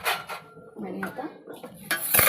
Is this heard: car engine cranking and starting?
no